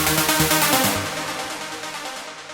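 An electronic dance track's synth riff, built from two Sylenth and Spire layers playing the same notes, sounds bright and loud with rhythmic pulses for the first second, then rings out and slowly fades.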